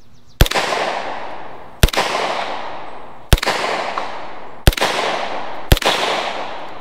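Five loud, sharp gunshots come from an SP5 firearm fired at a paper target. They are spaced about a second and a half apart, and each crack trails into a long echoing decay outdoors.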